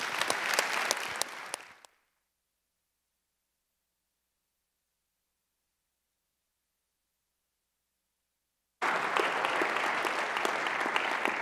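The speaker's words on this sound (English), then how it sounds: "if we could give a round of applause for Master Sergeant Cedric King" A crowd breaks into applause at a U.S. Army speaker-series event honoring a retired Master Sergeant, loud dense clapping that fades out after about two seconds, then silence, before another burst of steady applause returns near the end.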